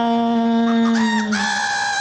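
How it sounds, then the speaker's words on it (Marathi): A rooster's crow is sung as part of a Marathi chorus song, with a strong sustained vocal line and bright harmonics carrying the cock-a-doodle-doo melody; the crowing comes from singing voices rather than a real bird. "बघ कोंबडा हा करतोय कुकू चिकू"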